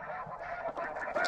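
Flock of geese honking overhead during a duck and goose hunt, a dense, continuous chorus of overlapping calls, fairly loud and steady, with no talking.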